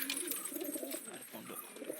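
Large pigeons in a loft coo softly and repeatedly, close and fairly quiet, with soft rustling and a faint voice at times.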